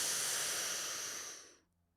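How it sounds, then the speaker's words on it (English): A single loud, deliberate inhale drawn through shaped lips: a breathy rush that holds steady for about a second and a half, then tapers off into quiet. "breathe in and make noise"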